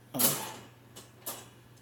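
A dog cage door creaks open at close range, one sharp grating creak followed by two shorter, fainter squeaks, each separated by quiet.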